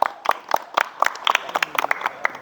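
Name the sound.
applause for group 2 in class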